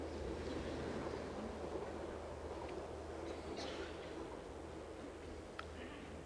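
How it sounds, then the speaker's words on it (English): Trains pass at a distance during a 1978 public talk in Saanen, giving a steady, faint low rumble with no clear onset or end. "there are a lot of trains this morning"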